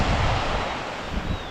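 Waves breaking on an Orkney shore near Brough of Birsay, a steady close wash of surf with rough wind noise over it.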